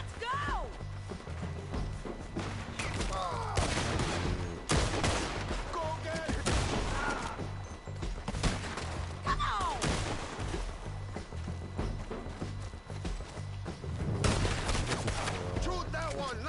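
Gunfire during a base shootout in Red Dead Redemption 2, repeated sharp shots in rapid bursts over a dense game soundscape, with voices shouting between volleys.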